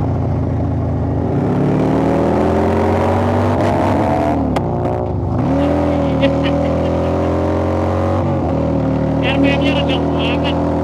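Motorcycle with an engine bored up to 2000cc, ridden on a racing circuit, a low rumbling drone that stays near and steady, rising and dipping in pitch, with talk over it.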